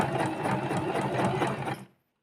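A home sewing machine runs at a steady pace stitching fabric for high-waisted pants, with a rapid, even mechanical chatter close by that stops abruptly near the end.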